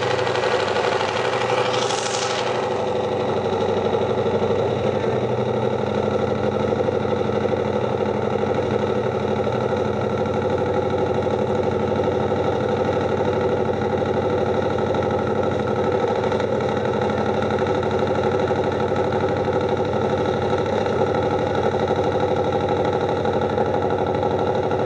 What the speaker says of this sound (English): See, you just hear the different RPM in a Harley.